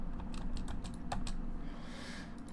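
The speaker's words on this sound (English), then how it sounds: "I'm just typing this down on a notepad as well to my right" Steady keystrokes on a computer keyboard while entering dates and prices into a notepad, a rapid, uneven run of close, crisp clicks over a low background hum, with no talk.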